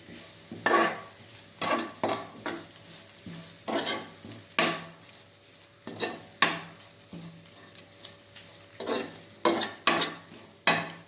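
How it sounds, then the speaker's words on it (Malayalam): Greens for cheera thoran stir-fried in a pan, stirred with a spoon in a series of repeated scraping, rustling strokes with short pauses between them and a faint sizzle underneath. "നന്നായി ഇളക്കി കൊടുക്കണം"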